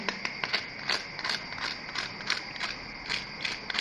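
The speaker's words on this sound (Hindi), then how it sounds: "मैं आपको दिखाती हूँ कितना क्रिस्पी है ये। आप इसकी आवाज़ सुने।" Rapid, crackly crunching bursts of crispy KFC-style fried fish repeat in an uneven rhythm, close and fairly quiet, with no speech over them.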